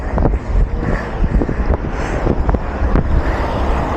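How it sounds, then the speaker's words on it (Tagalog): Strong wind buffets the microphone in loud, gusty rumbles and thumps while cycling into a headwind near the Pililla windmills, with traffic-like noise underneath. "Lakas ang hangin."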